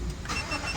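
A Chevy Suburban with an intermittent electrical fault, its engine catching in a brief, close rumble of cranking and starting.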